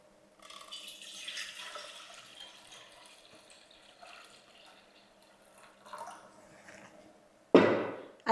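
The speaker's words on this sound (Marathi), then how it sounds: "आणि पाणी ओतायचं आहे।" Hot water is poured over soybean chunks in a bowl, giving a faint trickling and gurgling flow that ends in a short, loud splash.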